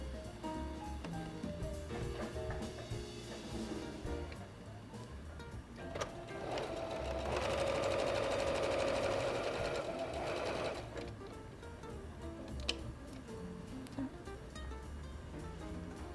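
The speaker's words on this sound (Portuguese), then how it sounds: "E eu vou passar uma costura aqui" A sewing machine stitches a seam around cloth doll pieces with lining on one side. Its steady mechanical whir runs close and clear, rising to a louder sustained burst mid-way before settling back to a quieter hum.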